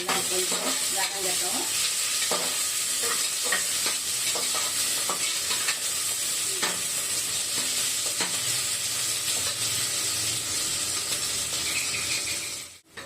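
Onion and green chilli sautéing in a pan for coconut rice, a continuous close sizzle with repeated scraping and stirring clicks from a utensil, fading out at the very end.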